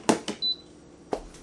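Short electronic beeps from the control panel of an Instant Zest rice and grain cooker as its timer starts, a few quick faint chirps in an otherwise quiet kitchen.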